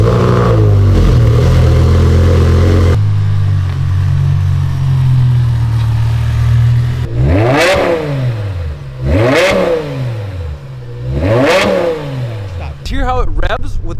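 V10 BMW engine with a custom F1-style exhaust and closed valves, idling loudly at first, then blipped through four sharp revs that rise and fall in quick succession before a final burst, close and alone.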